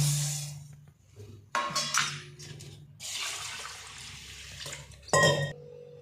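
Toor dal and fenugreek seeds being rinsed in water, with bursts of splashing, sloshing and swishing, plus brief clinks of a vessel, close and fairly loud, alone without talk.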